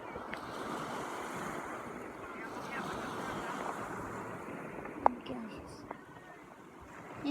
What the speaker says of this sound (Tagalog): Ayan na yung dagat guys.